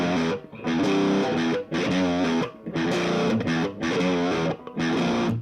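A distorted electric guitar chugs a riff with a dry, reverb-free tone, in five or six loud, rhythmic bursts, each ending in a sharp mute and a brief gap.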